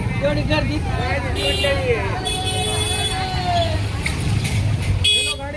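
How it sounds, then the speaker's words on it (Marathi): A busy Tuesday market in Ahilyanagar, with a steady crowd murmur, several car and bus horns honking near and far, and the rumble of vehicles moving through. "ह्या बाजारात गाड्या पण आहेत, माणसं, लेडीज सगळं आहे. गर्दीच गर्दी आहे बाजारामध्ये"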